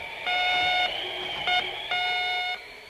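An electronic device beeps in a steady pattern of long and short high tones, clear and fairly close, with no one talking.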